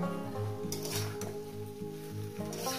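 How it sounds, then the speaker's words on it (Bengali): Ridge gourd and potato pieces frying in a pan for a poppy-seed dish, with a soft continuous sizzle, light stirring, and clinks of a utensil against the pan, alone without talk. "সুন্দর করে 7 থেকে 8 মিনিট কিন্তু ভেজে নেবে সবজিটা"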